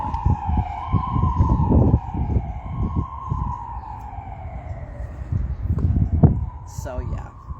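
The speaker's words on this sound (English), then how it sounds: "I'll wait for that siren to go by." A wailing emergency siren sweeps up and down as it passes nearby, loud and continuous under a busy street background, with a voice talking over part of it.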